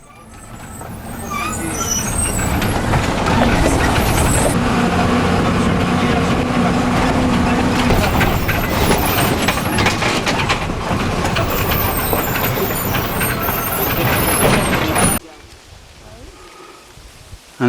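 A bus crawls in first gear along a rough mountain mule track in Nepal, a steady loud rumble of engine and rattling body that holds for a long stretch before dropping away abruptly.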